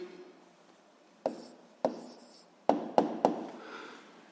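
Pen writing an answer on paper during a school physics exercise: five short, distinct scratchy strokes spaced apart, close and quiet, with no talking.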